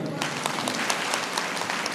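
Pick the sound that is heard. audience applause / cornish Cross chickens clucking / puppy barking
audience applause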